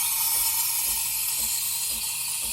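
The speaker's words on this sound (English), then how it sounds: "Turn on the steamer." Breville Barista Express steam wand steaming milk in a jug, a steady, loud, close hiss with a faint low rumble underneath, continuing unbroken.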